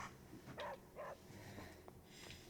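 Charlie, a dog in Marvel's Midnight Suns, gives a few faint, short snorts and soft whimpering yips close by in a quiet room.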